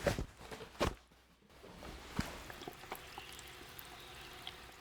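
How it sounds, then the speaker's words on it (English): Water is poured and trickles into bone-dry clay, with soft soaking and dribbling sounds as the clay absorbs it, after a louder splash at the start. "The sound of the bone-dry clay absorbing the water is fun."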